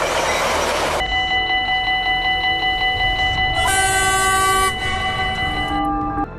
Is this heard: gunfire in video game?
no